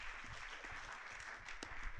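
Audience applause at a global summit on ending sexual exploitation, steady clapping from a crowd filling the hall, moderately loud and continuous throughout with a few sharper claps near the end.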